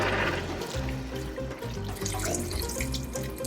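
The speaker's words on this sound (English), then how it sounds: "Pour 2 to 3 cups of water." Water pours steadily into a cooking pot, a close, continuous gushing and splashing with no talking.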